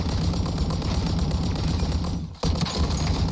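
Sustained rapid gunfire from a zombies mode of Call of Duty Modern Warfare, dense and loud throughout, with a brief drop just before a fresh burst resumes.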